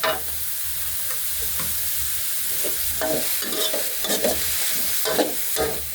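Vegetables stir-fried with carrot, long beans and chili in a hot pan, a steady bright sizzle broken by the scrape and clatter of a spatula tossing the food, close and unaccompanied by talk.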